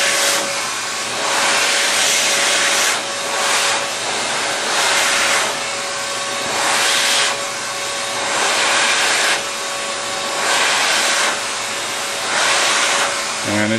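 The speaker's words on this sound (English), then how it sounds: "on PRT tubing, I'm just applying the heat to the overlap flap area only" A heat gun blows steadily on PRT heat-shrink tubing over the overlap flap of a wire or cable bundle being water-blocked, a continuous close airy roar that swells and eases in regular waves for about fourteen seconds, with no talking.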